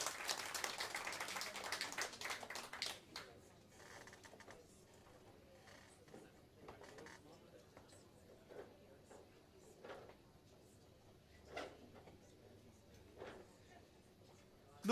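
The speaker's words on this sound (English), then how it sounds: "You better give yourselves a round of applause while I change instruments here." A live music show audience gives a dense round of applause that fades out over the first few seconds, leaving a quiet room with scattered faint knocks and shuffles.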